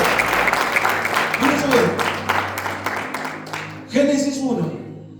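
Church congregation applauds during a sermon, a dense wash of clapping across the room while a preacher's voice speaks over it, the clapping thinning as the talk resumes.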